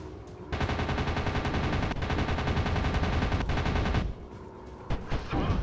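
Anti-aircraft flak fire in the WW2 dogfight game Warplanes: WW2 Dogfights, a dense, loud barrage of rapid bursts that keeps hammering for several seconds. It then drops away to a few scattered pops.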